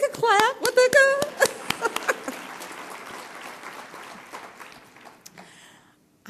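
Audience clapping at a business awards breakfast honoring a woman executive, with a loud burst of claps and a voice over it at first, then the applause thins and fades to near silence.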